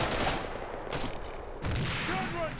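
A squad of six soldiers in the Combat Mission video game opens fire on a lone Russian soldier, loud overlapping bursts of rifle and machine-gun fire crackling in rapid, ragged volleys.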